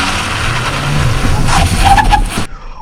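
Car engine building revs on a wet road for a hard launch, fitted with Falken ZIEX ZE310R eco tires; a loud, steady broadband roar with tire and spray noise that cuts off abruptly near the end.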